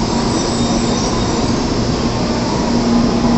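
A Shinkansen Nozomi bullet train rushes past on the high-speed line during the year-end holiday rush, giving a loud, steady roar of wheels and air with a faint high whine and no voices.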